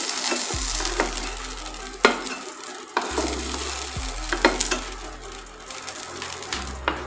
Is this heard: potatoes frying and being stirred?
yes